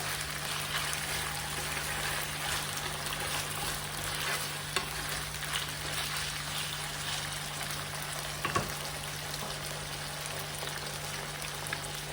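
Constant crackling sizzle of finely chopped chicken breast frying in a hot pan, broken by an occasional light clink, with no voices.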